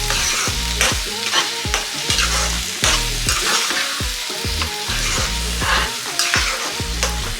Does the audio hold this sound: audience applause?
no